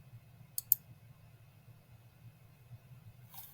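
A computer mouse clicks twice in quick succession to save a form entry, crisp and close over a steady low hum, with no talking.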